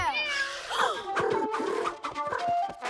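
A cartoon cat meows several times in quick succession, with voiced, pitch-bending calls close and clear over light background sound.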